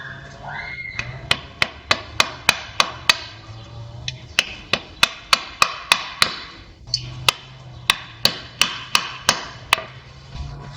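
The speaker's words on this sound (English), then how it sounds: "Yeah, you can't do without a hammer." Sharp metallic hammer blows on a Chevrolet CV joint ring out in quick bursts, several rapid strikes at a time with short pauses between, close and fairly loud.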